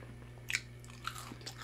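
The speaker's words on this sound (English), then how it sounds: "I guess they're the jalapeno crispies. They're crunchy." A few quick crisp crunches as crunchy jalapeno crispies on a Burger King Ghost Pepper Whopper are bitten and chewed close by, with a steady low hum underneath.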